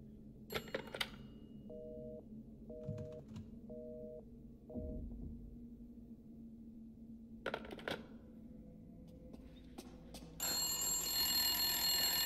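A telephone rings inside House Beneviento in the video game Resident Evil Village, sounding four short, evenly spaced electronic trills over a low ambient hum, followed by a louder burst of noise near the end.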